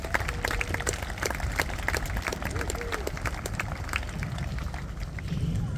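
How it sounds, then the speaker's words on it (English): Applause from the arena crowd at Beaulieu Motor Museum for the workshop team in green boiler suits, scattered clapping over a rumbling, busy outdoor background with some voices. "Please give a round of applause to our workshop team."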